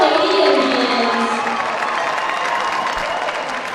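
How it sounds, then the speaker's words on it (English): Crowd applauding and cheering in a high school basketball gym as the 1994 state champion girls' team is honored, a loud, steady wash of clapping and shouts that fades slightly toward the end. "Ladies and gentlemen, another huge round of applause for the 1994 state champions"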